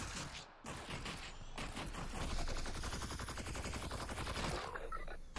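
Rapid automatic gunfire at Combine soldiers in Half-Life: Alyx, a dense continuous burst of shots after a brief gap, loud and close, no talking.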